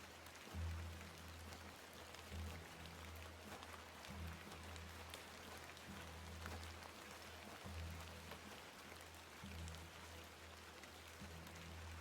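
Steady rain falls in the video game The Excavation of Hob's Barrow, a soft continuous hiss of drops layered over a low repeating rumble, faint and even, with no talking.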